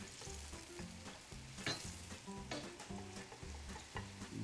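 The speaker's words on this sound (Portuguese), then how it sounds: "tomar jeitinho aqui com a cebola, não ter muita pressa, deixar que a cebola cozinhe" Onion cooks in a pan with a soft, steady sizzle and a few crackling spits, while rhythmic stirring scrapes and knocks repeat under it at close range.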